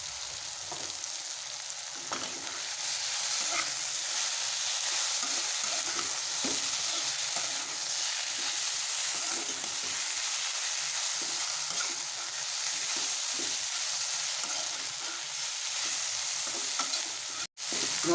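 Brinjal fry is stirred in a pan with pepper powder. A loud continuous sizzle runs throughout, with frequent soft scraping from stirring and a brief clunk near the end.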